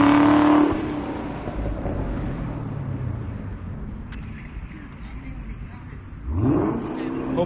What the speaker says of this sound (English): This is a stock exhaust that Chevy put out there.